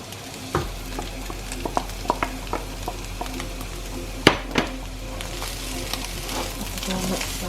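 A whole grated carrot stirred into vegetable fried rice frying in coconut oil: a steady sizzle runs throughout, broken by repeated scrapes and clinks of the spoon against the pan and one sharp knock partway through, with no talking.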